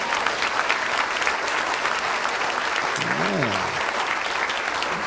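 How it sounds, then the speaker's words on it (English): A church congregation gives its pastor a round of applause, loud and continuous massed clapping filling the whole stretch, with a voice briefly calling out over it. "give your pastor a round of applause"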